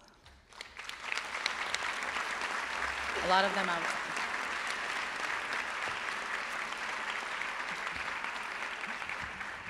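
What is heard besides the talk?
audience applause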